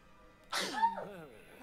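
A single sharp sneeze bursts out close and clear in a quiet indoor room, short and sudden against low background hiss.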